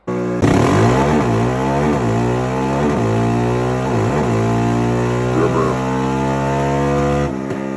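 Can-Am/Yamaha-style ATV, a Raptor 700 single-cylinder engine, revving hard on a dyno, loud and close, with repeated rising sweeps and short dips between pulls, running steadily for several seconds before cutting off.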